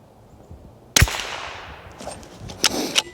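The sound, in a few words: Anschütz 1727F rifle shot, cold bore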